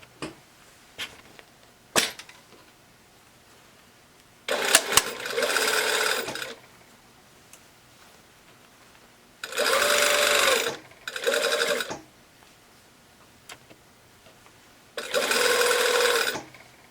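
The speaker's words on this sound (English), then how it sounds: "we're going to sew all the way around the front part of the sleeve" A sewing machine stitches around the front of a sleeve lining while a jacket lining with a vent is bagged, running in three steady bursts of a few seconds each between quiet handling clicks. Nobody talks.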